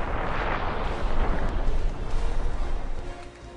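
A simulated 15-kiloton North Korean nuclear missile blast over central Seoul's Yongsan district roars as a broad, sustained rumbling explosion with heavy low rumble and no voices.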